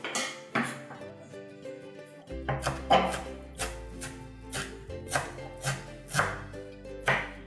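Crisp, rhythmic knife strokes on a cutting board as fresh dill is chopped into small pieces, about a dozen sharp taps at an uneven pace, close and alone over quiet background music.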